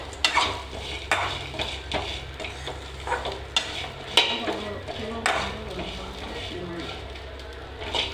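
Coconut slices sauté in a pan for chicken gravy, a soft sizzle under repeated scraping and clinking of a metal spoon against the pan, while a voice talks over it.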